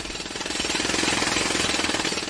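A jackhammer pounds away at a studio construction site in a rapid, even rattle of blows, loud and continuous throughout with no voices over it.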